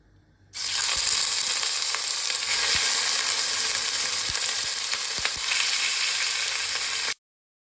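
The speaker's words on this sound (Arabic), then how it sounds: "اول ما السمنة تبدأ تسيح معايا هنزل باللحمة بتاعتي واديها صدمة" Beef pieces dropped into melted ghee in a hot pan burst into a loud, steady sizzle that starts suddenly, carries on with scattered crackles and pops, and cuts off abruptly.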